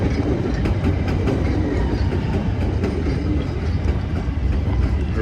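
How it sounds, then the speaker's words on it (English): A southbound Chicago CTA Red Line train passes at Belmont Avenue. The roar is loud and continuous, with rhythmic clickety-clack from the rails and no voices. "Another Red Line train heading south."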